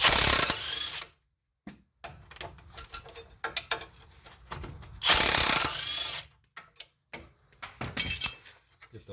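Bursts of a power tool whir in short runs removing front strut nuts on a 2014 Lincoln MKX, separated by quiet gaps and scattered clicks and rattles of metal parts nearby.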